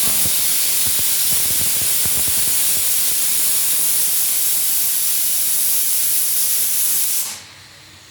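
A pressure cooker whistling as it vents steam while dal with long beans and other vegetables cooks, a loud, sustained hiss that runs unbroken for about seven seconds and then cuts off abruptly into quiet.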